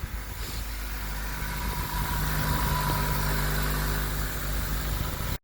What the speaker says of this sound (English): Now we'll go ahead and crank up the engine.